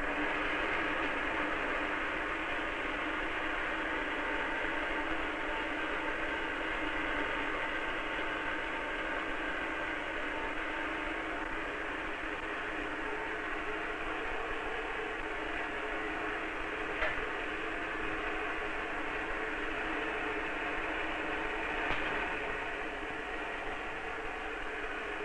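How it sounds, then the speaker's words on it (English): An electrostatic charging machine runs in a 1959 physics demonstration on Coulomb's law, giving a steady, even whirring drone with a broad noisy hiss that holds at constant loudness throughout, with no talk. "Start up my charging machine."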